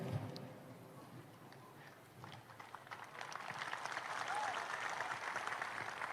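Audience applause at an Islamic lecture in Aceh, Indonesia, a broad clapping wash that swells and holds steady after a brief voice at the start.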